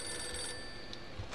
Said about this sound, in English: then the phone is ringing again